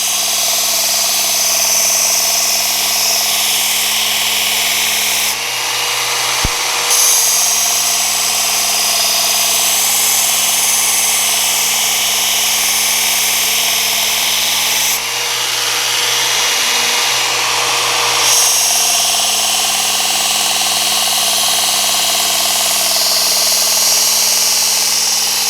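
Knife blade being sharpened on a power tool, a continuous loud motorized whine and grinding drone lasting throughout, with brief shifts in tone where the blade is lifted or repositioned.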